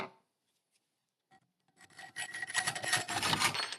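A handsaw cuts a piece of wood in half along a marked centre line, starting after a near-silent pause with faint taps, then a steady rasping stroke that builds in loudness.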